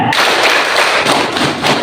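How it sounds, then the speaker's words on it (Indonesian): A group of people at a school Eid al-Adha gathering clapping together in unison, dense sharp claps in a short burst. "Tepuk tiga."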